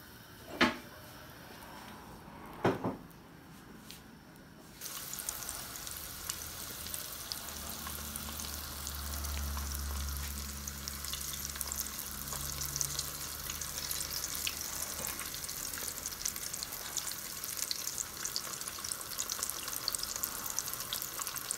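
Cheese sticks fry in hot oil with a steady, dense crackling sizzle that begins abruptly after a few sharp knocks and clatters, then continues unbroken at close range, with a low rumble underneath.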